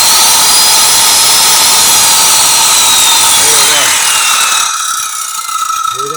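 A battery-powered 2.3 horsepower, 12 amp saw mounted on a buggy runs with a loud, steady high-pitched whine and mechanical rattle, easing down near the end while a person speaks over it.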